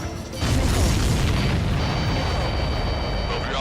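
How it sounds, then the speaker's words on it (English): Missile explosions in the jet combat game Ace Combat 7 Skies Unknown: a heavy booming blast that then rolls on as a dense, sustained rumble, loud and close. "That's a confirmed direct hit by the missile."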